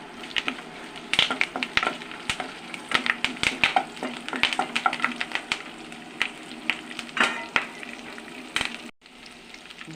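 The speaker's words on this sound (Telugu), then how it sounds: "ఇదిగోండి పోపులు వేసేస్తున్నాను." Tempering spices crackle and sizzle in hot oil with the onions for an ivy gourd fry, a loud, dense run of sharp pops over a steady hiss that briefly cuts out near the end.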